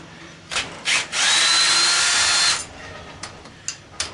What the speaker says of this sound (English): while I got the drill here and the bits, and we'll pull the head off